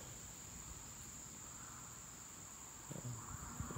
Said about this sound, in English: I'm even enjoying the bugs.